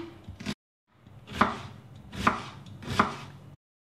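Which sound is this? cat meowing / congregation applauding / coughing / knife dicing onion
knife dicing onion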